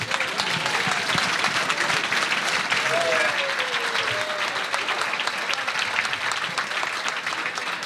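Audience applause for award winners at an event, a steady wash of clapping with cheering voices and whistles mixed in, holding even across the clip.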